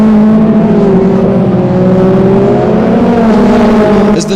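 Toyota MR2 race cars racing at Snetterton, heard as a loud, sustained engine drone with tonal harmonics that slowly rise and fall as the cars pass and accelerate, close and dominant throughout.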